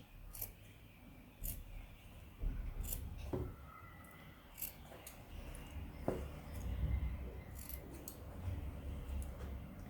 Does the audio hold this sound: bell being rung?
no